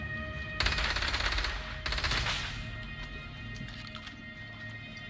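Rapid bursts of video game gunfire ring out in a combat stage with a dropship, two long loud volleys in quick succession, followed by scattered quieter shots and background game sounds.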